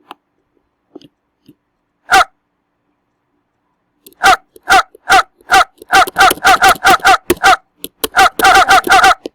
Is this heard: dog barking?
yes